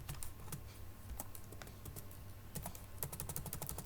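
Computer keyboard keys tapped in irregular bursts while C array code is typed, with close, crisp clicks and no voice.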